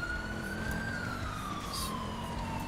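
Emergency vehicle sirens in a role-play video game, a single wailing tone that slowly slides downward, moderately distant and steady, with faint background noise.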